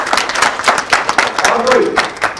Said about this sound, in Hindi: वेरी गुड, तालियां बजाएं इनके लिए